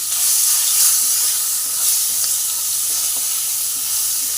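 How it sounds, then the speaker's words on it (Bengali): Prawns fry in hot oil with a continuous bright sizzle and crackle, steady and close, with no talking. "এই তেলের মধ্যে আমি চিংড়ি মাছটাকেও দিয়ে দিয়েছি"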